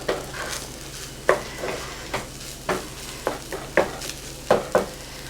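Egg and fried rice pushed together with a utensil in a hot pan, with a steady sizzle under a series of sharp scraping stirs, about ten strokes at an uneven pace, close and fairly loud.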